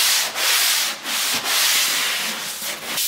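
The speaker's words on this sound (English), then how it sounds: "So in sanding the corners, I'll take the block and find the less abrasive side and then the more abrasive side on the front face here." Sanding block rubbing drywall corners in a metal garage, a steady close abrasive scraping in repeated back-and-forth strokes with brief pauses.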